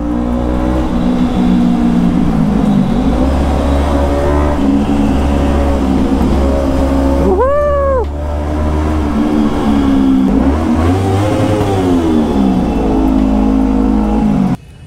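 Kawasaki Ninja ZX10R sport motorcycle engine revving loud and close inside Atal Tunnel, steady high drone with a sharp rising-falling rev spike midway and further swells, echoing off tunnel walls.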